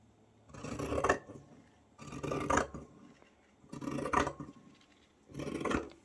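Paper being cut with scissors while making a small art journal, four separate rasping cutting strokes about a second and a half apart, close and fairly quiet, with no talking.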